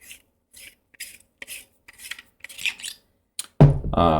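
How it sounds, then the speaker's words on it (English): The grenade section of a Proffie neopixel lightsaber hilt, a Luke Skywalker ROTJ replica, is unscrewed in a series of short, quiet scraping rasps at a steady pace, ending in a sudden louder burst of gritty noise. "We'll come over here and unscrew our grenade section."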